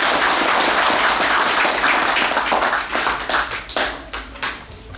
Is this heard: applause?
yes